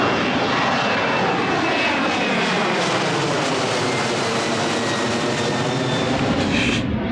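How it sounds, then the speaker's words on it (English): A loud, steady jet engine roar fills the whole stretch, a broad continuous rush that stays intense from start to finish with no talking. "I might get a good angle of a plane taking off"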